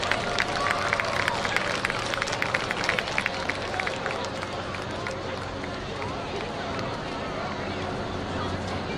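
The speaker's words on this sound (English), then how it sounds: "Ladies and gentlemen, give them a big round of applause." At a high school football game between Musselman Applemen and Cabell Midland Knights, the crowd claps for corporate sponsors. Scattered, fairly distant applause fades into a broad stadium hubbub and announcer talk.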